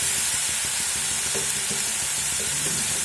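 Ground turmeric, cumin and coriander frying with ginger and garlic in a pan, a steady close sizzle with rhythmic scraping stirs running throughout.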